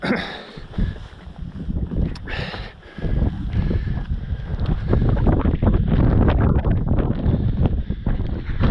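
Strong wind on an open mountain ridge buffets the microphone in a steady, rushing roar that grows heavier after a brief lull, with no talking.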